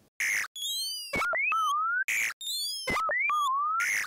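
Bright, shrill electronic beeps and chirps from a clicked button in a Godot project repeat in quick bursts, each set with a randomized pitch, some sweeping upward like button clicks.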